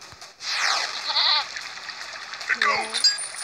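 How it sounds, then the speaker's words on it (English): Goat in a video game bleating, a couple of clear wavering bleats over a hissing background, one early and one lower near the end, with a voice talking around them. "There is a goat."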